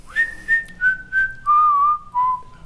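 A person whistles a short descending tune of about six clear, pure notes, close and loud, with a few soft breaths between them and no talking.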